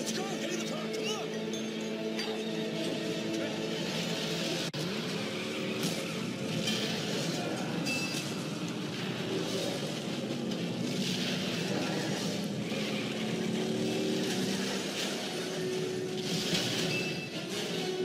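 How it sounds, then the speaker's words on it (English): The V8 engine of the Magnum Opus car in the Mad Max video game drones steadily while driving, a continuous rumbling roar with wind and road noise, speech heard over it at times. "Max Magnum Opus with its V8 engine and powerful ramming ability can destroy enemies' vehicle and weaponry."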